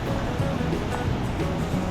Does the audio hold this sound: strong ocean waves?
yes